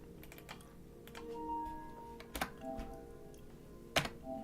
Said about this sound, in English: I'm controlling my PS5 with my keyboard.